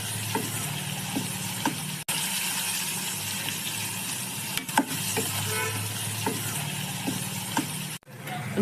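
Chopped onions and a handful of curry leaves fry in hot oil in a pan, a loud steady sizzle with occasional stirring scrapes and clicks, close up, broken by two brief cuts to silence.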